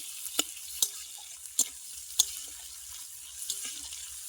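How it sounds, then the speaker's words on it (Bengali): Chopped onion and garlic frying in a pan for a mixed vegetable curry, with a quiet sizzle and a few sharp spatula clinks and scrapes spaced across it, no talk. "এর মধ্যে দিয়ে দিচ্ছি পেঁয়াজ রসুন কুচি পেঁয়াজটাকে খুব ভালোভাবে ভেজে নিচ্ছি"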